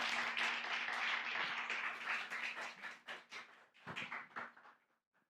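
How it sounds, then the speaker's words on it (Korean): Congregation applauding in a church during a Sunday afternoon service, dense clapping that thins into scattered claps and dies away near the end. "나오실 때 박수 부탁드립니다."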